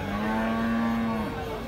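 A cow moos once in a long, loud, steady call lasting over a second at a cattle market selling dairy stock, heard alone with no talk over it.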